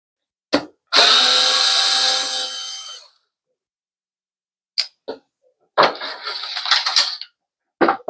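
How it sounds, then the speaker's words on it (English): Short whirring bursts of a power screwdriver back out large screws holding the fans of a PC case, one long run followed by several brief stop-start spurts with quiet gaps between. "let's start removing the screws holding the fans in place. Pretty big screws."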